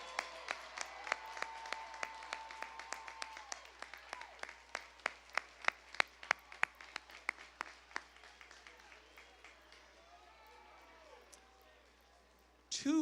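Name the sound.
audience applause for graduates earning AA degree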